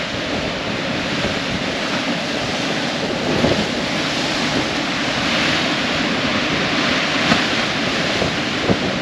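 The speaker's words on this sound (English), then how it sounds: "And the waves rolling in around those rocks." Waves roll in around rocks on the South Australian coast near Mount Gambier, a continuous loud surf wash with gentle swells and some wind noise, and no voices.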